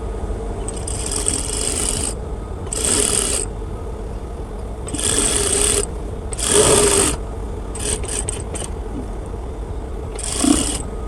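A sewing machine stitches a kameez side slit in short, fast bursts, each run of stitching separated by brief pauses while the fabric is repositioned.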